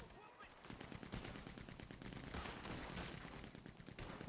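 Machine gun fire in Red Dead Online rattles in rapid continuous bursts amid other gunshots, faint and somewhat distant, with no talking over it.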